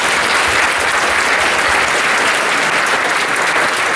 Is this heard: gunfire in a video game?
no